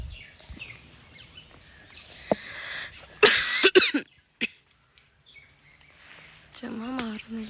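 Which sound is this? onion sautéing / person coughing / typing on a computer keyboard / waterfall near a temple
person coughing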